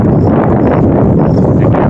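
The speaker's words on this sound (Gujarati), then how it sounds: "પવન નીકળ્યો છે" Loud, blustery wind rumbling across the microphone, a constant low roar without pause.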